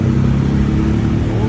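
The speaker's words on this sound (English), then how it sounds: "Famous Thailand tuk-tuk." A Thai tuk-tuk engine in Bangkok runs loud and close, a rough rattling putter that holds steady without pause.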